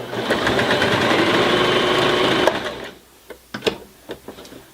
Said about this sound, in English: So now we're stitching through 4 layers of denim.